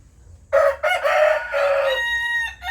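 A large rooster gives one loud, close crow lasting about two seconds, rising sharply and then trailing off, against a quiet farmyard background.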